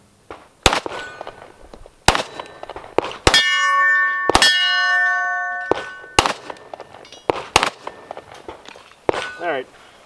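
Sig Sauer P320 X-Ten pistol firing outdoors at small steel targets: a string of sharp, loud shots, several followed by long ringing clangs as rounds strike the steel, spaced irregularly across the stretch.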